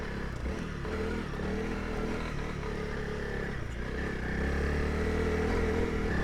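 A 2023 Honda CRF300L Rally on stock tyres chugs in second gear up a steep, greasy, muddy hill, its engine a steady low thrum that swells slightly near the end, with no voices.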